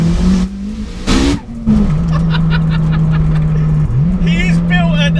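A turbocharged 440 bhp Honda Civic EP3 Type R running 1.2 bar of boost pulls hard in third gear with a loud, sustained engine drone and a brief dip, as a voice talks over it.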